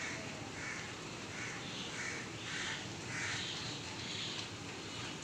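A crow caws repeatedly at a monkey in the rain, harsh calls coming in a rough rhythm, moderately distant, over a constant hiss of rainfall.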